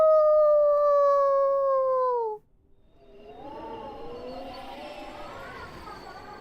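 A person imitates a wolf howl with a long, loud, sustained wavering voice that slides downward and cuts off, followed by quieter mixed voices and low background noise.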